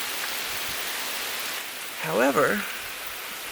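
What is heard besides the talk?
rain falling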